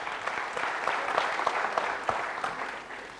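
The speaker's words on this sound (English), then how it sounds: "Let's have a big round of applause, everyone." Audience applause at a conference keynote on cloud and DevOps, a steady wash of many hands clapping with a few sharper individual claps, fairly loud and continuous, tapering slightly at the end.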